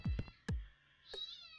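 A house cat meows twice in short close calls, then gives a higher, drawn-out whine, faint overall with no talking.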